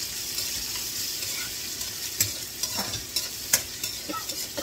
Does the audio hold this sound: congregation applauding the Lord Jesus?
no